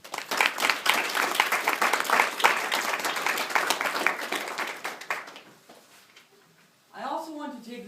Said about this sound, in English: if you guys can give yourselves a round of applause